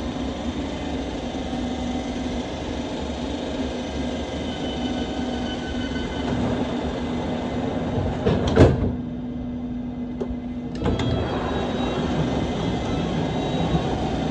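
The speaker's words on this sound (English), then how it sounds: "Now we have a Metropolitan line train departing for apparently Amersham." A London Underground Metropolitan line train departs a station bound for Amersham, a steady rumbling hum with a tonal whine, punctuated by two sharp clanks or squeals before it rolls on.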